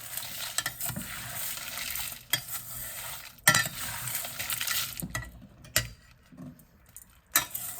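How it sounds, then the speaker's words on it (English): Sambar powder spices and tamarind dry roasting in a pan, with soft crackling and scraping of a spoon stirring the ingredients, uneven clattering strokes and quieter gaps, close and fairly faint. "Now you just have to dry roast these items together."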